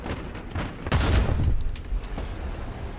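Bursts of rapid machine gun fire in the video game War Thunder crackle in quick succession, a dense fusillade peaking in the middle, with scattered shots trailing off afterward.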